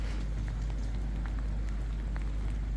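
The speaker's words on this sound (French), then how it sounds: "Il pleut." Steady rain falls across a harbour where a large sailboat is moored, making a dense, even patter with a few brief, sharper drops rising out of it. The sound is continuous and close, and no one speaks.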